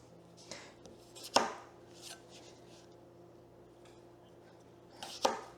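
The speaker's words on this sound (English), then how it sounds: "Just chop these up." Close knife chops on a cutting board while potatoes are cut up in a home kitchen: two crisp, sharp strikes several seconds apart with a few softer taps between, over a low steady hum and no speech.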